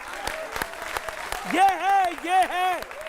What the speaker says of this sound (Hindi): तालियां इनके लिए